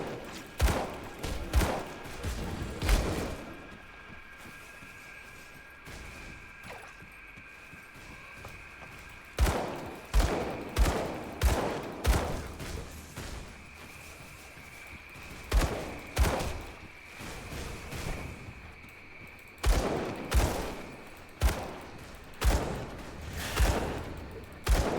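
Gunfire in the action RPG Grim Dawn comes as loud clusters of rapid shots with thudding impacts, separated by short quiet gaps, and repeats throughout. No one talks.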